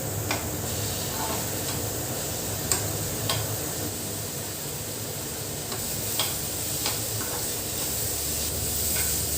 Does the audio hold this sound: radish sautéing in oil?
yes